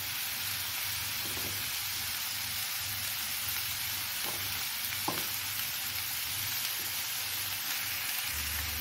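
Green jackfruit pieces frying in oil in a pan, a steady close crackling sizzle that runs without pause, with a few faint stirring clicks and soft knocks along the way.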